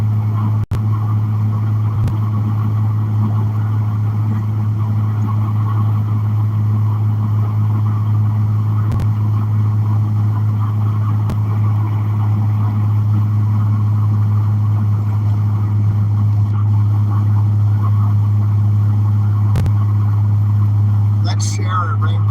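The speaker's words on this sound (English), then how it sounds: "Look at all this traffic up here. You see all that traffic on the overpass?" Heavy road traffic on an overpass: a loud continuous low engine-and-tire drone with a few sharp clicks, heard from inside a moving vehicle, no distinct voices.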